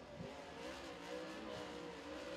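A race car engine at Crossville Speedway during qualifying, fired up and running with a steady, buzzing mid-pitched drone that swells slightly as it revs, heard close and alone.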